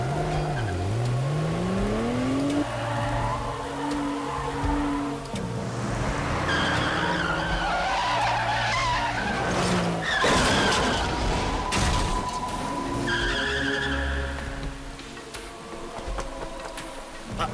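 A car skids with a rising tire squeal, then crashes into a taxi in the rain amid a dense burst of impact noise and clatter, with engine and road roar throughout and no talk.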